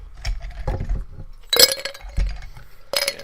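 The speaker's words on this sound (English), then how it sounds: "that's the sound of ice" Ice cubes clinking against a glass of vodka, several distinct bright clinks and rattles spaced apart, close and clear with no talking.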